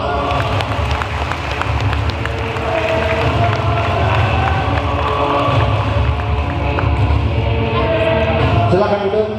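An audience at a motivational sales seminar gives sustained applause and crowd noise, loud and continuous throughout, with no talk over it.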